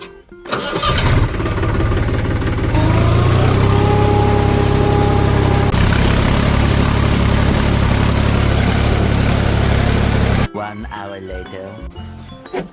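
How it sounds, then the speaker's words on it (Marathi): A tractor engine starting in a farm field, cranking into a loud steady idle close by that runs for several seconds and then cuts out, with a voice heard briefly at the end. "आता आपण ट्रॅक्टर चालू करू आणि चिकोल करू ह्या साईडला"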